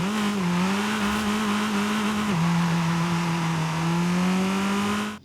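An MG6 XPower with a 1.5 litre engine in Forza Horizon 5 holds a loud, close, sustained drone, pitch wavering slightly and stepping down briefly around mid-run before settling, alone throughout.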